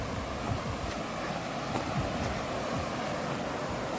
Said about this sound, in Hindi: तो झरझर और कलकल की ध्वनि जो है